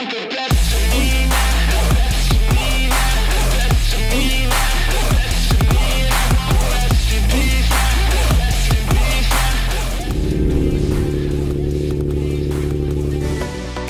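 An Infiniti G37 with an Ark Grip exhaust revs loudly and up close in repeated sharp bursts, then settles into a steady, rumbling idle.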